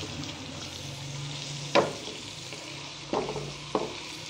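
Chicken tikki cooks in masala with a soft, low frying hiss, broken by three brief scraping stirs of a spoon against the pan.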